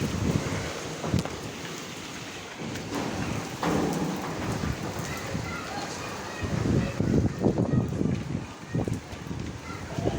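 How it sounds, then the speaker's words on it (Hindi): Heavy rain pours in a dense, hissing wash, with gusts of wind buffeting the microphone in irregular louder bursts. "बड़ी तेज़ बारिश हो रही है।"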